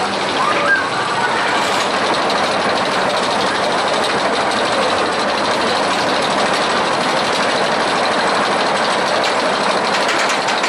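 Toutatis roller coaster train running at Parc Asterix, heard as a loud, steady broadband roar and rumble that holds for the whole stretch with no pauses.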